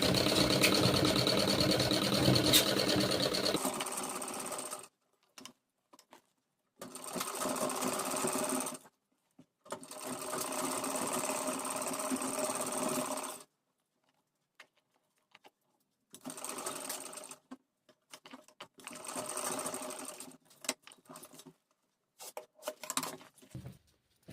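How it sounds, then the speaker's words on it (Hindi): Sewing machine stitching a satin lining onto a blouse with an illusion neckline, running in several bursts of steady whirring separated by short pauses and quiet handling. "इसके चारों तरफ से सिलाई लगा देंगे"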